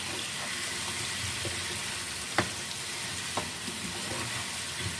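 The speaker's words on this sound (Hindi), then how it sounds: "चिकन और आलू को भून लेते हैं" Chicken and potatoes fry in a pan with a steady, close hiss and sizzle throughout, broken by a couple of faint clicks from a spoon or the pan.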